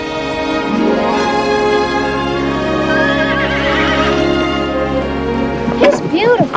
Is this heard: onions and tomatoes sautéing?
no